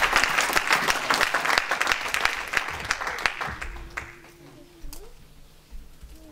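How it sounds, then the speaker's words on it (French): A church congregation at a French-language service bursts into loud, dense applause and cheering for the Lord. The clapping fades over several seconds, leaving a quieter room with a few scattered claps. "Est-ce que quelqu'un peut acclamer le Seigneur ici?"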